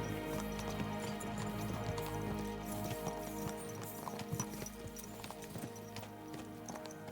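Horses gallop in the medieval game Kingdom Come: Deliverance II, with rapid, continuous clip-clop hoofbeats over a steady bed of outdoor ambience. A brief whinny sounds partway through.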